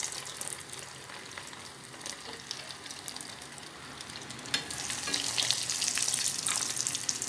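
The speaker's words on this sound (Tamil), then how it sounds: "ஆயில் சூடான பிறகு கட்லட்டை போட்டு எடுக்கணும்." Fish cutlets frying in hot oil, a steady close sizzle and crackle that grows louder and brighter in the last few seconds, with no voices.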